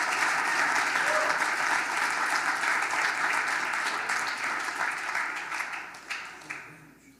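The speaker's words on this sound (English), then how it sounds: "Let's give these guys another round of applause" A crowd applauding loudly and steadily, the clapping gradually thinning and fading out toward the end.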